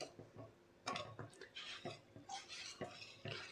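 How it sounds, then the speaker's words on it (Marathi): Gram flour (besan) batter is stirred fast in a pot for Maharashtrian masvadi, giving quick, irregular scraping clinks and taps of a utensil against metal, fairly close and with no talk. "पीठ हटताना खूप फास्ट हटावं लागतं, नाही तर मग गाठी तयार होतात पिठाच्या."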